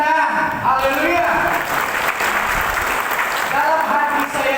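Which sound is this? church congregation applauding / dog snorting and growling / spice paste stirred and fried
church congregation applauding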